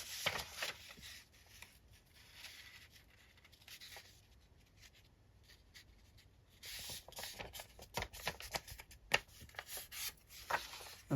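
Sheets of paper are folded in half to make a journal signature, with faint rustling and close, crisp creasing and scraping that grows busier toward the end.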